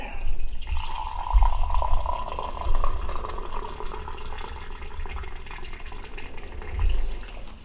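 Strong black coffee from Black Rifle Coffee Co. pours into a cup in a steady liquid trickle, close and fairly quiet, with a few soft knocks and no talking.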